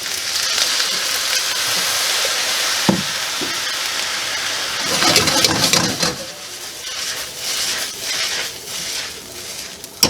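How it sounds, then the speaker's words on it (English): Liquid aminos hitting a hot pan of pork fried rice, a loud steady sizzle that flares into sharper crackling bursts as the food is stirred, close by with no talking. "Now I'm going to hit it with the aminos, liquid aminos"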